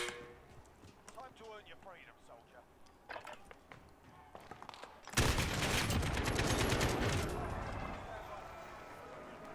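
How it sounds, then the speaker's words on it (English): Assault rifle fire in the gulag of the video game Call of Duty, played on a Ryzen 5 3600 gaming PC: talking first, then a sudden burst of loud rapid automatic shots that keeps going and slowly fades. "Assault rifle in the gulag."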